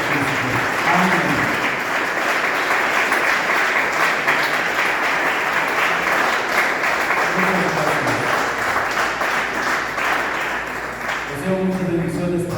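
A church congregation applauds in a long, steady wash of clapping that fills the space, with some voices mixed in and a brief dip near the end.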